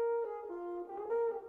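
A French horn holds sustained, mellow brass tones, a single steady phrase that slides between a few pitches, played alone at moderate volume with no talking.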